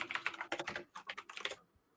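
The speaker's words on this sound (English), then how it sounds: "Frantic typing from Ida and myself." Frantic typing on a computer keyboard, rapid bursts of close, crisp key clicks with brief pauses between flurries.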